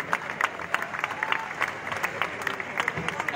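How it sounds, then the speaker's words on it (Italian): Outdoor crowd at a Naples square rally applauds a speaker, scattered sharp claps and cheers rising and falling at moderate distance over a broad murmuring wash. "Un grande applauso a Cisco Orlando, Napoli, un grande uomo"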